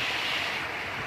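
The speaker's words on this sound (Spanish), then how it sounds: "estoy en medio de una cascada" Rushing water of a waterfall in an outdoor natural setting, a steady broadband roar heard close and continuous with no break, no voices.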